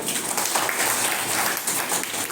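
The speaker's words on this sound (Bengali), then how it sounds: "জোরে হাততালি একটা হবে।" Loud, steady applause from an audience after a poetry recitation, a dense wash of clapping that holds at full strength for the whole stretch without a break.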